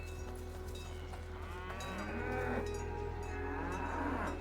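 A cow moos in Dungeons of Hinterberg, a drawn-out, fairly quiet bovine lowing that swells over a few seconds against a steady low hum, with no talking.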